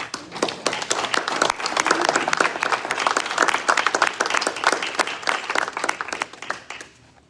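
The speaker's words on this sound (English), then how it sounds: "I'd like to give a round of applause to Pam." Dinner audience at a leadership panel event applauding, a dense, sustained round of clapping from many hands that holds steady for about seven seconds before tapering off at the end.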